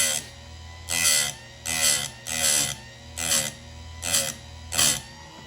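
An Oregon 310-120 mini bench grinder sharpens a saw chain in seven short, bright grinding bursts, about one per second with quiet motor hum between them, close and alone.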